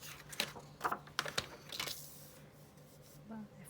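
A paper trimmer slicing designer series paper, heard as a few quick, soft scraping strokes and clicks close by in a quiet room, ending in a lighter rustle.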